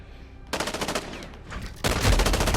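MP7 submachine gun in Call of Duty Modern Warfare, fired in two rapid automatic bursts, the second louder and closer, each a fast rattling stream of shots.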